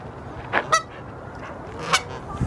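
Geese at a pond in Salish Ponds Park, Fairview, Oregon give several loud nasal honks, two close together and another a moment later, against quiet outdoor background.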